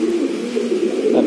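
A Giribaz pigeon kept in a fancier's collection gives a low, continuous murmuring coo, close and moderately loud, rising slightly at the very end.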